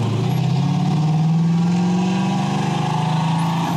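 A 1970 Chevrolet Chevelle with an LS2 engine rumbles by at close range, a steady deep throbbing exhaust note with a slight rise in pitch.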